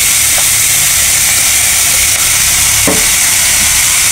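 Bitter gourd with potato and spices such as turmeric and coriander powder fries in a pan, giving a loud, steady sizzling hiss with a couple of brief clinks of stirring.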